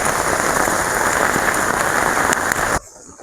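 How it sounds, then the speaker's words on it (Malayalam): Heavy rain pours steadily onto a dragon fruit plantation, a dense, loud, continuous hiss that stops abruptly near the end, leaving quieter background. "കണ്ടോ, നല്ല മഴയാണ്"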